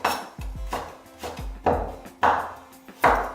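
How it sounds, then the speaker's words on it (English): A knife cuts a carrot into matchsticks on a cutting board with sharp, distinct chops, several quick strokes then evenly spaced louder hits, close and clear with no talk. "I need to cut this carrot into matchstick."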